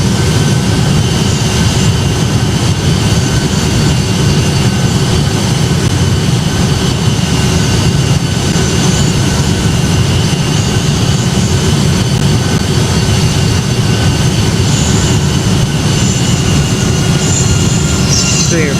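Boeing 757 jet engines roar steadily and loudly during takeoff in the flight game Project Flight, a constant dense rush with faint whine tones that holds unchanged throughout, no talk.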